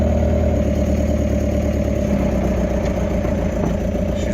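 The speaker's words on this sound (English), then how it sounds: "She's running out of diesel there on me" Diesel engine of an excavator running steadily as it begins to starve of fuel, a close, loud, uneven low rumble with a faint stumble near the end and no talking.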